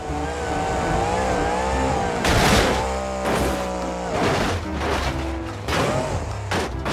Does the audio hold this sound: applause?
no